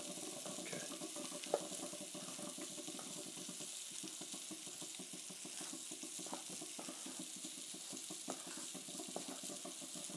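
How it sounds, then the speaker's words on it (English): Tap water runs steadily into a kitchen sink while hands are washed between steps of mixing buttermilk biscuit dough, a continuous close splashing hiss with no talk. "let me wash my hands"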